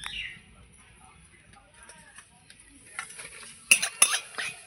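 Whole garam masala with cinnamon, two cloves and two cardamom pods stirred in a cooking pot, soft scraping at first, then a few sharper clinks and sizzling bursts toward the end, close and fairly quiet.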